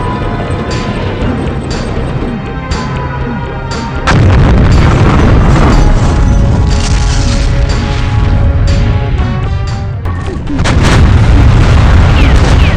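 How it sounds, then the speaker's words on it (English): A nuke detonating in the tank combat video game BattleTanx: loud, continuous layered booms and rumbling blasts, with a heavier surge around four seconds in and another near the end, sustained throughout. "Nuke deployed."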